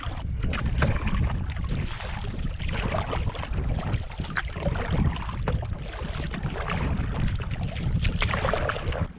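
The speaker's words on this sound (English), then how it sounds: "Going against the wind on the way back." Wind gusts buffet the microphone while a canoe is paddled against a headwind through the Canadian wilderness during a storm, a loud continuous roar with rough bursts and splashy water churning throughout, no talking.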